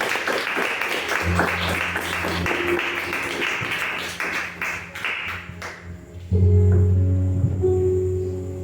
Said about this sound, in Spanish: Den un fuerte aplauso al Señor esta mañana.